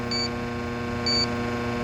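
An electronic combustion analyser testing an oil-fired boiler with its burner set to very high CO2 emits two short, high-pitched alarm beeps about a second apart over a steady mechanical hum of the running boiler.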